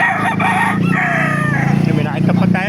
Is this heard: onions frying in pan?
no